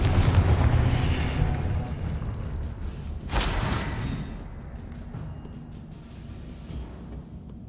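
A Confringo explosive spell in Hogwarts Legacy bursts with a heavy rumbling blast, a second sharp crack follows, and the noise slowly fades into a quieter tail.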